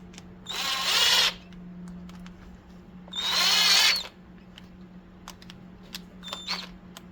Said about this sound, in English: Reinstall the 2 screws. Tighten them down.